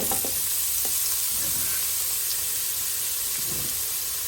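Chopped onion and carrot hit a hot soup pot and sizzle, with a busy frying hiss and a few soft stirring knocks over a few seconds.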